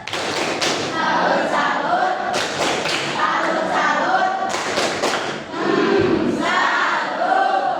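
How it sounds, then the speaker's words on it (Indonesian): A school class performs a rhythmic salute clap together, loud and near, with repeated bursts of clapping and thumps in a patterned beat, mixed with children's voices calling out. "Kita berikan tepuk salut."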